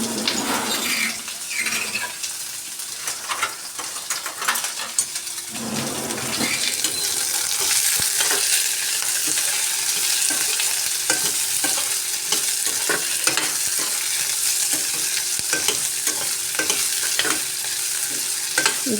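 Onion, chili, garlic and bay leaf frying in hot oil in a home kitchen, with a few stirring scrapes early on, then a loud, steady sizzle that holds to the end.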